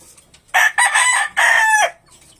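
A rooster crows loudly and close by, a long harsh call in several segments lasting about a second and a half, with quiet background before and after.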